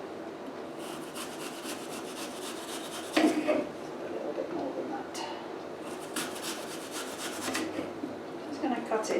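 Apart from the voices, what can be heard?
knife chopping cooking apple on a chopping board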